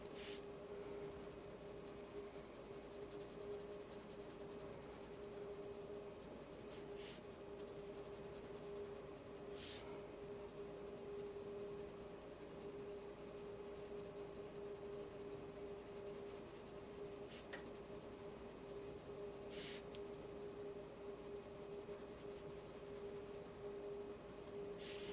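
Colored pencil strokes scratch steadily across paper while a holly leaf is drawn, a close, quiet, continuous scribbling texture with a few brief sharper ticks and a faint steady tone underneath, no talking.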